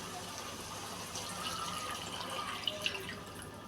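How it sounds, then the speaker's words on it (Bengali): Broth is poured into a simmering fish-head and cucumber curry, giving a steady, soft liquid splash and trickle with a couple of small drips, close by. "তো এবার ঝোল দিয়ে দিচ্ছি"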